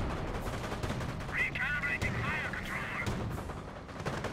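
Gunfire and explosions from a Company of Heroes 1 battle with Rangers, AT guns and Flak Panzers, dense rattling shots under someone commentator talking continuously.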